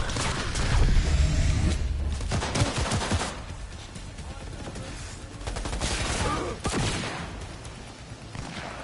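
Rapid cannon gunfire in the video game Cyberpunk 2077, dense bursts of booming shots and clatter in repeated waves, loud and continuous throughout with little pause.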